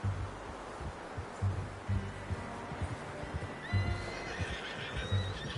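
A horse in Red Dead whinnies faintly over soft hoof clops and rustling, the neigh rising near the end.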